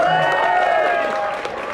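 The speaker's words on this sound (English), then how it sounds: "So give her a round of applause." A dense wash of audience applause, steady and loud throughout, with a tonal hum beneath the clapping.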